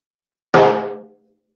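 A single taiko drum stroke for a don beat, one deep booming hit with a sharp attack that rings out and decays over about half a second, alone and close.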